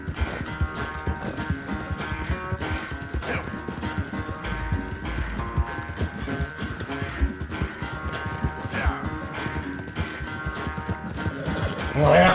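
A horse gallops steadily in Red Dead Redemption 2, its rapid hoofbeats drumming close and loud over game music, with a brief louder crash near the end.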